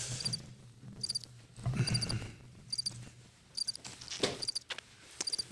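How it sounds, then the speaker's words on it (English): Crickets chirp in short, regular high-pitched bursts roughly every second, faint over a low background hum with a brief rustling noise in the middle. "I keep hearing noises. Is that crickets?"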